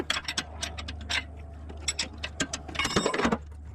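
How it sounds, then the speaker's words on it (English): Wrench tightening a strut bolt during a car strut installation, a rapid series of close metallic ratcheting clicks that grows busier toward the end. "Works good with the wrench."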